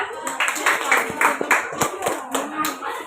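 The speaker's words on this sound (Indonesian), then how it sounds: "Tepuk tangan buat kelompok kita." A small group claps for their team during a teacher coaching and supervision session, with crisp, close hand claps that fall in a fairly regular rhythm, one after another.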